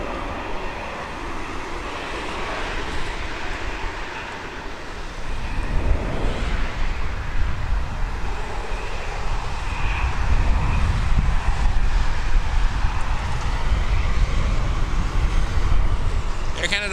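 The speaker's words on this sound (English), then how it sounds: "Fly Alliance Cessna 560 Citation XL." A Fly Alliance Cessna 560 Citation XL jet at Toronto Pearson produces a broad, distant engine roar that swells in the second half, with a low rumble underneath.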